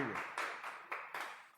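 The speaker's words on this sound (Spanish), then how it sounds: "Denle un aplauso a Mike, por favor." Scattered applause from a church congregation, a few loose rounds of hand claps in quick uneven bursts, soft and somewhat distant with no talking.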